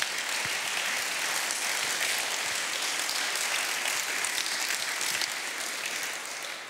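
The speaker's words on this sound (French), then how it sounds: "On peut l'applaudir bien fort." Loud, sustained applause from an audience welcoming a guest speaker at a French conference on business ethics, a dense even wash of clapping that holds steady and fades only slightly at the end.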